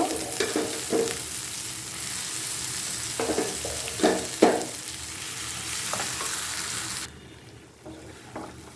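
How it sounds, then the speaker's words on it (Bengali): Boiled taro leaves fry in a pan with onion, garlic and dried chillies, a close sizzle broken by several scraping stirs before the frying noise suddenly drops away toward the end. "আমি এখন সেই কচু পাতাগুলো একদিকে দিয়ে দিব"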